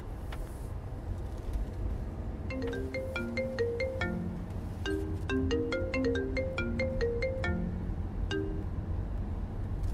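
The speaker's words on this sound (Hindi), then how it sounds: "दोस्त का फोन है" A mobile phone plays a ringtone as a friend calls, a bright melodic tune of short repeated notes in two phrases at moderate volume over a low background rumble.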